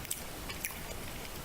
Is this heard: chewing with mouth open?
yes